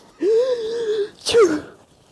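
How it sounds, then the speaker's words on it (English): A voiced, drawn-out inhale followed by a sharp, explosive sneeze, close and loud, with a brief tail afterward. "I gotta sneeze."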